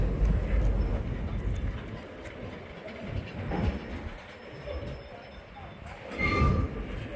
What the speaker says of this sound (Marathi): विगणवाडी रेल्वे स्टेशनवरून गाडी बीडकडे निघलेली बघा इथून आत्ताच